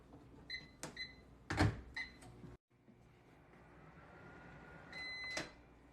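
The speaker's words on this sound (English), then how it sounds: "Now we're going to put it into the microwave for 45 seconds." Microwave oven warming butter and milk: keypad beeps and door clicks, a brief silence, then a steady low hum of the running oven with another short beep near the end; no talking.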